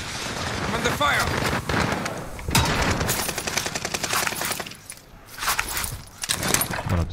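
Gunfire in the Rebirth Island video game crackles in repeated bursts of rapid shots, loud and close, with short lulls between volleys and a voice over the action.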